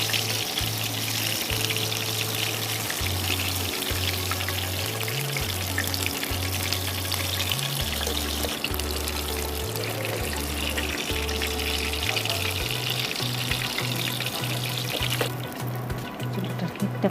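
Breaded prawns frying in hot oil in a home kitchen give a steady, dense sizzling hiss that runs unbroken for the whole stretch at a fairly loud, close level, with no talking.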